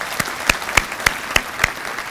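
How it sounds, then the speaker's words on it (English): Banquet audience applauding at an annual meeting and membership dinner, a short burst of rhythmic clapping with distinct regular claps standing out over the crowd. "please join me in giving them a round of applause"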